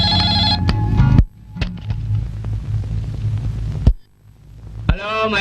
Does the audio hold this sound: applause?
no